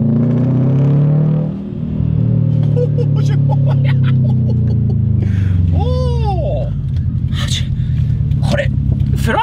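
A Subaru car driving fast with a loud exhaust, its engine holding a deep steady roar that swells with acceleration, while people talk and exclaim excitedly inside the cabin over the engine.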